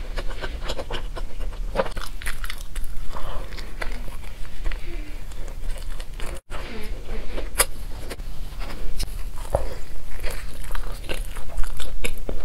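Someone bites into and chews a crunchy strawberry up close in a Chinese ASMR eating session, producing repeated crisp crunches and wet chewing that go on throughout.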